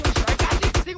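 Rapid automatic gunfire in GTA San Andreas, a close, loud burst of about seven evenly spaced shots in quick rhythm, stopping abruptly with a brief echo.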